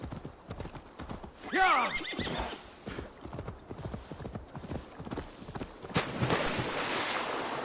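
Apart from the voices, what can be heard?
horse hooves clip-clopping, from video game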